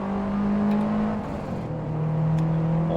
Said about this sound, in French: on va commencer par le 0-100